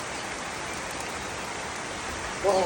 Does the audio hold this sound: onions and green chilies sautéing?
no